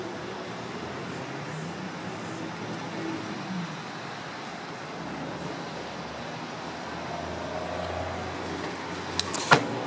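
Power rear window shades motoring in a luxury car with a 12-speaker sound system, a soft steady electric whir running throughout in a quiet cabin, ending with a faint click near the close.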